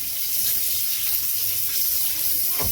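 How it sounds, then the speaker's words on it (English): Canadian bacon rinsed under a running kitchen tap, a steady broadband splash of water on meat in a sink, continuous and close with no talk. "I'm going to quickly just rinse it off prior to getting onto the smoker."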